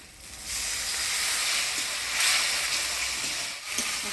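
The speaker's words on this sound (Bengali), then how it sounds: "লবণ মশলা ধোয়াতে জল দিয়ে দিব" Water poured onto spices in a hot pan, bursting into a loud, steady hissing sizzle that swells after a brief quiet start and holds close and continuous, with no one talking.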